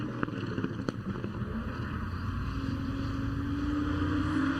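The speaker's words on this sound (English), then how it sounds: "Love the sounds of these cars too, Greg." Race cars, including one with a BMW-sourced inline six, run on a track at a GRIDLIFE Mid-Ohio meet; a steady engine drone builds in pitch over several seconds amid wind noise, with no talk.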